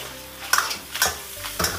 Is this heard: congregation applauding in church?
no